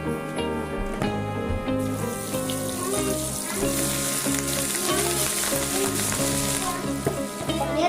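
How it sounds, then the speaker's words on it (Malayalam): Green mussels frying in hot oil for Kannur street-stall kalmas: a bright, steady sizzle that swells after the first couple of seconds, set under prominent background music. "ഫ്രൈ ആവട്ടെ നല്ല നല്ല സ്മെല്ലടിക്കുന്നുണ്ട് നമ്മുടെ കല്ലുമ്മക്കായ ഫ്രൈ ആയിട്ടുണ്ട്"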